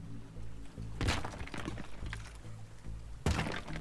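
A player drops down a chimney in the destruction game Teardown, heard as a few heavy thunks and crumbling impacts, loud and close, over a continuous low rumbling game background.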